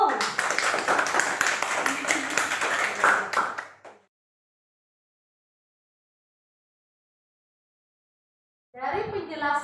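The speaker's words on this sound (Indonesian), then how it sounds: "tepuk tangan untuk Aulia dan Agung." Students in an Indonesian classroom clap together in a brisk, loud burst of rapid applause for about four seconds, followed by silence and then a teacher's voice.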